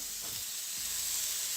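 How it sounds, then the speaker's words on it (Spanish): Soy sauce poured into a pan of frying sausages, giving a steady, close, bright sizzle with a brief burst of added hiss early on as the liquid hits the hot pan. "vamos a vertir nuestra salsa de soya"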